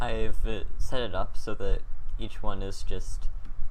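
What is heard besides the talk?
No everyday noise stands out behind the speech.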